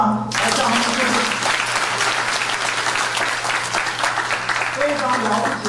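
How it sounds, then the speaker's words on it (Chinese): Audience applause at a book launch ceremony and art exhibition event: a dense, steady clapping crowd starting abruptly and sustained loudly for several seconds, with a faint low hum underneath. "热烈的鼓掌，来向他们致敬"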